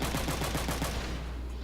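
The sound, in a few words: machine gun fire in video game Front Mission 3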